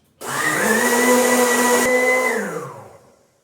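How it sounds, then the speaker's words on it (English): A powerful high-speed blender whirs steadily while blending coconut for homemade coconut milk, a loud sustained motor drone that starts abruptly, holds for about two seconds and then winds down as the blade slows. "Let's say it takes about 3 minutes with one of those blenders."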